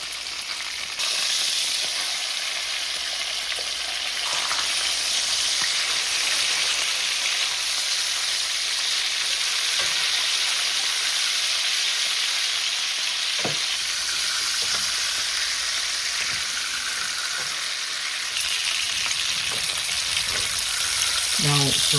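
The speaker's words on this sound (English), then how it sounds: "Now fry it this way a little bit." Thick pork chops fry in a skillet with garlic, butter and rosemary, giving a loud, continuous sizzle and hiss that holds steady throughout, with a few brief clinks and stirring sounds breaking through.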